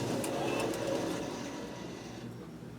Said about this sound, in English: we're going to load it by pressing the bed load button